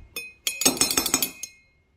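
Spoon clinking against a glass bowl while mustard and vinegar are whisked into a salad dressing, a quick run of close, bright taps and scrapes lasting about a second, with no talk.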